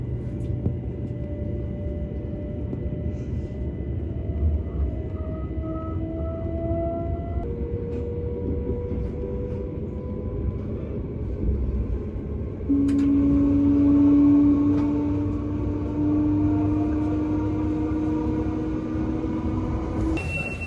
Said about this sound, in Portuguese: Agora aqui o trem é tranquilinho.